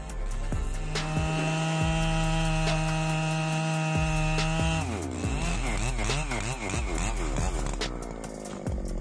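A big chainsaw with a 118cc engine and a 42-inch bar roars at full throttle through a giant tree trunk, a loud sustained whine that wavers and bogs as it cuts, close up.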